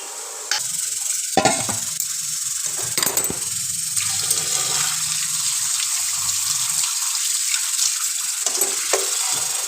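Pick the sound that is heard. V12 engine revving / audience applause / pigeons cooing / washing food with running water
washing food with running water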